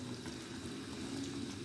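Chicken curry with tomato paste and yogurt bubbling in a pan over a flame, a soft steady simmer of thick liquid popping quietly and continuously, with no voices.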